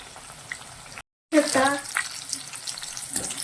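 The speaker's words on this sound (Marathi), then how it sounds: "आणि लो गॅसवर आपल्याला पूर्ण खरपूस भाजून घ्यायचे आहेत तळून घ्यायचे आहेत" Corn papad frying in oil over a low gas flame, a steady crackling sizzle that briefly cuts out, then returns louder with bubbling and spattering.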